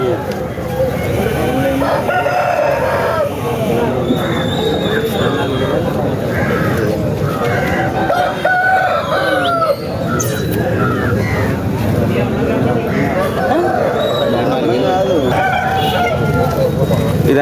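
At a Saturday country chicken market in Mamidada, roosters crow repeatedly amid clucking birds, with people talking and bargaining nearby throughout.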